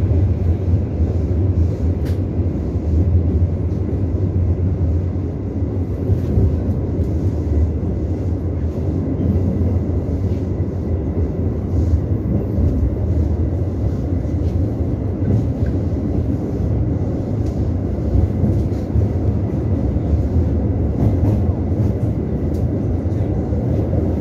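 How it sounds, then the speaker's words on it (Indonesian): Serayu passenger train pulling into Maos station in the early morning, a steady loud low rumble of rolling wheels and carriages holding for the whole stretch without talk. "Pukul 6:11 kereta api Serayu Maos tiba di stasiun Maos."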